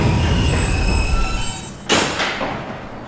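An R160 subway car on the E line to 57th Street rumbles loudly with whining wheel and motor tones, then a sudden thump partway through gives way to a brighter, noisier rush.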